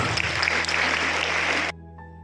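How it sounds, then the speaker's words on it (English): An audience at a school Republic Day celebration applauds briefly, a dense burst of clapping that cuts off abruptly, leaving a quiet hum. "Please welcome her with a huge round of applause."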